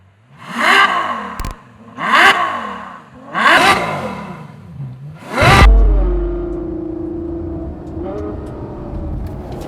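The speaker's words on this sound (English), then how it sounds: "But one thing they haven't quietened down is that V12." A Ferrari GTC4 Lusso's naturally aspirated 6.3 litre V12 revs loudly in four sharp, rising blips, then settles into a lower steady idle with faint mechanical whir.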